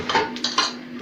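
A metal griddle pan used for grilling fish is handled in a kitchen, giving a few close, bright clanks and scrapes of metal on metal in quick succession, with no one talking.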